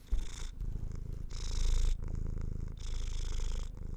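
A house cat purrs close up in steady cycles of rumbling breaths, each lasting about half a second to a second, with no talking.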